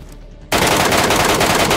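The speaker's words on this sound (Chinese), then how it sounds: "枪声在这边" Bots firing in the Arena Breakout video game, a loud burst of sustained automatic gunfire that erupts abruptly after a short quiet moment and rattles on continuously, close and dense.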